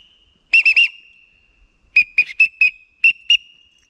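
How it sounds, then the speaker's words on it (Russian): A survival whistle is blown in a forest in short, shrill blasts: three quick ones, a pause, a run of four or five, then two more. The blasts are loud and close and there are no voices. "А свисток много не весит и много не стоит."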